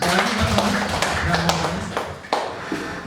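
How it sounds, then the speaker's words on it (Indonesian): A small audience at a business mentoring session claps hands, scattered sharp claps and taps over a murmuring room, with a few louder claps near the end. "Tepuk tangan."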